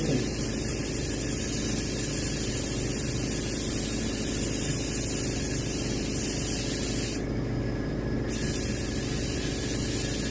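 An airbrush or spray gun hisses steadily and close up while paint is applied to a striped bass (rockfish) skin mount or reproduction, one continuous spray with a brief sharper burst near the end.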